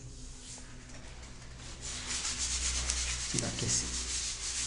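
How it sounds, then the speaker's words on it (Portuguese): Sandpaper rasps steadily across old glazed kitchen wall tile, a close, continuous gritty rubbing that grows louder partway through, with a short spoken phrase over it. "Tem que passar uma lixa aí"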